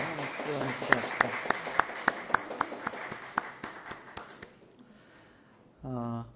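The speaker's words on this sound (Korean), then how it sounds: "우리 큰 박수로 한번" A church congregation at a Sunday service claps in slow, regular unison beats for several seconds before the clapping trails off, and a voice begins speaking at the end.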